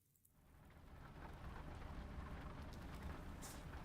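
Rain falls in the trucking game American Truck Simulator. A faint, steady hiss swells in over the first second and then holds evenly, with no talking.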